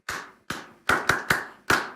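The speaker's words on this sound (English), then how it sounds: "Clap for Nana Addo." Scattered claps from an audience applauding Nana Addo during a TV3 morning show segment, six sharp close claps in an uneven, sparse rhythm with no voices.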